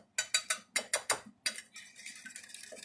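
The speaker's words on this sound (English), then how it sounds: "I like to mix it up again just to get the spices all mixed together before I add anything to thin out my egg mixture" Egg mixture with spices whisked in a bowl, heard as a quick series of sharp, close tapping clicks of a utensil against the bowl, then a faster, softer run of mixing strokes.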